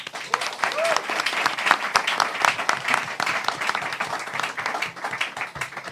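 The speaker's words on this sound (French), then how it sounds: "on peut l'applaudir." An audience applauds Dominique, a sound technician who makes soundscapes, with steady, dense clapping filling the room throughout.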